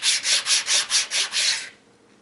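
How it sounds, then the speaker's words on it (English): Light sanding of wooden parts for a hidden blade prop kit, seven steady back-and-forth rubbing strokes in even rhythm, close and clear, then fading to quiet. "go ahead and just give them a light sanding again"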